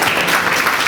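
A poetry recital audience applauds, a dense, loud wash of clapping hands filling the whole moment with no pause.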